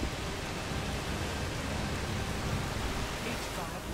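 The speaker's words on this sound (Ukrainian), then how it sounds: "Ну, дощ йде, а ці" Steady, dense rain hissing across the whole frequency range in the game A Plague Tale: Requiem, an unbroken wash at constant loudness with no distinct drops standing out.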